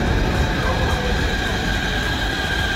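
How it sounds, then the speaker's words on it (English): An elevated sky train runs past in a steady, loud rumble of wheels and carriage noise that holds constant throughout, with no voices. "Sky train. An elevated rapid transit system commonly found in modern cities like Bangkok or Vancouver."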